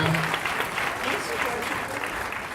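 An audience at a horror film Q&A applauding the filmmakers, a short burst of steady clapping mixed with voices talking.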